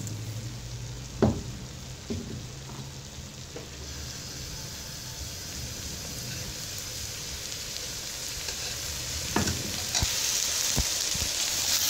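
Rice and sugar sizzle and fry in a pan over high flame while being stirred, a steady close crackle with occasional scraping knocks from the spoon, no voices.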